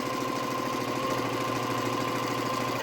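A sewing machine runs steadily, stitching a quarter-inch seam down a quilt block, a close, continuous rapid mechanical whir and tick with no pauses.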